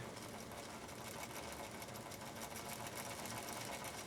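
A Husqvarna Viking 51E sewing machine stitches at a steady pace, its motor and needle producing a continuous close, even mechanical whir from start to finish.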